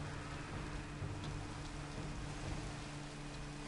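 Steady rain hisses across the landscape in the Minecraft video game, a constant soft wash with no other sounds over it.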